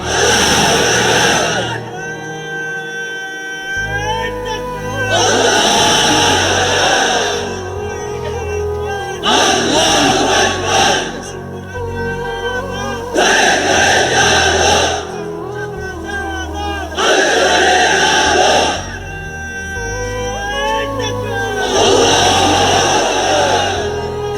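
Crowd of unmarried men at a religious sermon shouting the takbir chant in response to a preacher: several loud, roaring group shouts in repeated bursts, alternating with the preacher's voice between them.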